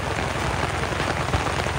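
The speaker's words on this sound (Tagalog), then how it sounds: "Natsyempohan po natin ngayon habang bumubuhos ang ulan." Heavy rain pouring steadily during severe flooding in Metro Manila, a dense continuous hiss with no voices heard.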